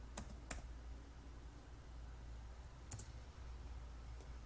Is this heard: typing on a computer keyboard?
yes